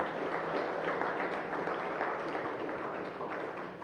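Dense, continuous applause from a church congregation during a sermon, a steady wash of many hands clapping at moderate volume that tapers slightly at the end.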